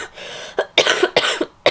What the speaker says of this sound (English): Obviously I've got a cough.